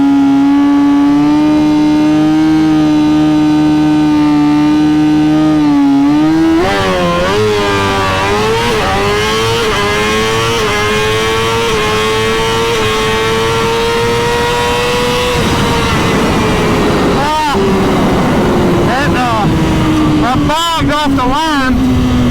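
A 2020 Suzuki GSX-R 1000 motorcycle idles loudly, then revs hard and launches off the line, its engine note climbing steadily before shifting. Voices are heard over the engine.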